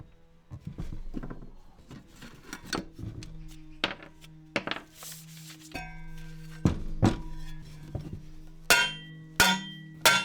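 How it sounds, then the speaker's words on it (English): Scrap brass fitting struck repeatedly with a hammer, a series of sharp metallic clinks and thunks at irregular intervals, close and fairly loud, with some ringing tones between hits. "quick whack with a hammer will make these screws a lot easier to take out"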